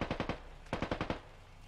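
Two quick bursts of automatic gunfire ring out in a Squad military battle, each made of four or five sharp, evenly spaced shots. They sound at moderate distance, and a faint tail follows.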